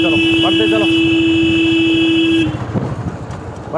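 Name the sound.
car horn honking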